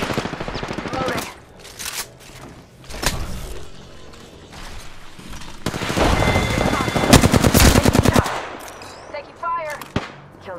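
Gunfire in the Apex Legends video game: bursts of rapid automatic fire, loud and close, with single sharp shots, thuds and a long sustained volley in the middle, all without talk.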